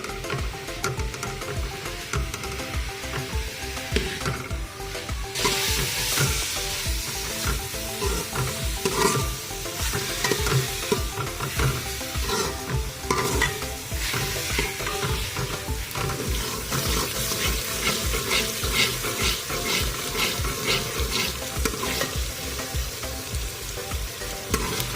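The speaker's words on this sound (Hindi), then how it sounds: "हाई फ्लेम पर प्याज को लाइट ब्राउन होने तक फ्राई करेंगे" Onions frying in ghee over a high flame, a loud continuous sizzle with repeated scraping strokes as a spoon stirs them around the pan.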